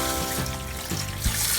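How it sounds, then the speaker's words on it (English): Water pours steadily from a hose into a turkey fryer pot, a continuous close trickling and splashing stream that runs through the whole moment with a small surge near the end. "put it inside the turkey fryer, and we're going to fill it up with water"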